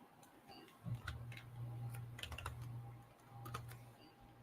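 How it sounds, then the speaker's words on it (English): Quick keystrokes on a computer keyboard entering a player's name into a sports props search, a short burst of clicks over a steady low hum, moderately close. "I'm going to type in Cooper Kupp just to look at him as well."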